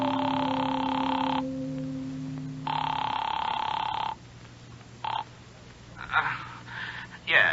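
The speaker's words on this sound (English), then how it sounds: "The phone rang a long time before he answered." Telephone ringing in a radio drama, several long electric rings separated by pauses, fairly close, followed by a voice beginning to speak as the ringing stops.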